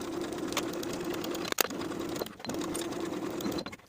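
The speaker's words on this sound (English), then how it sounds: "Sew these seams with a 5/8 inch seam allowance." A sewing machine runs a 5/8-inch seam on a pair of shorts, a close, steady whirring chatter broken by two brief pauses before stopping near the end.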